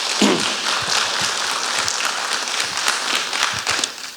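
Applause from an audience at a Golden Jubilee celebration after professors are thanked, a dense wash of many hands clapping that holds steady throughout with no voices over it.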